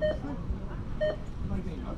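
At a radio-controlled buggy race, a Team Associated B7 2wd among the entrants, the start signal sounds as two short electronic beeps about a second apart under a commentator's talk and background noise.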